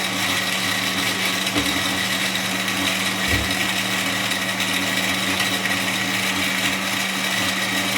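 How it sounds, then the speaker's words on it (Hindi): An electric blender grinds falsa berry juice with the seeds, a loud, steady high-pitched motor whir that runs continuously and unchanged from start to finish. "आपने इसे ग्राइंड करते रहना है जब तक आपको लगे कि बीज जो हैं वो अच्छी तरह मिक्स हो गए हैं।"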